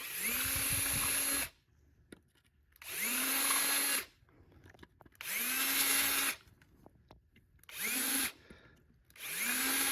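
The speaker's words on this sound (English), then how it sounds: "You'll need to drill the screw holes out to 5 millimeters" A power drill boring out screw holes to 5 mm in a Jeep JL off-road bumper, four loud bursts of whining motor, each spinning up and stopping, with quiet gaps between them.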